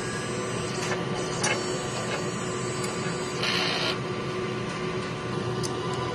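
A sublimation printer running a print head cleaning cycle, a steady loud mechanical whir with faint periodic clicks and brief swells of higher-pitched motor noise, continuous throughout.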